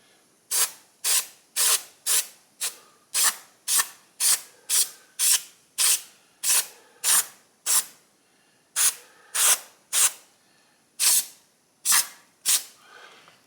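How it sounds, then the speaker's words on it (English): Carburetor cleaner sprayed onto a Craftsman lawn mower carburetor in about twenty short, sharp hissing bursts, close up, firing in a quick, steady rhythm with brief silences between them and no talking. "Now let me squirt some carburetor cleaner in there."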